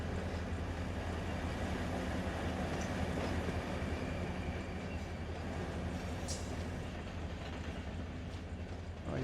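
A freight train rolls along in the Run 8 train simulator, a steady low rumble with faint rail clatter and a brief squeal near the end, continuous and evenly loud throughout.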